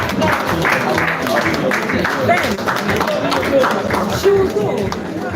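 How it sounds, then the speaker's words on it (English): Audience applause at a women's award ceremony honouring a recipient, steady dense clapping mixed with crowd chatter throughout, loud and continuous. "Let's keep clapping. Let's keep clapping."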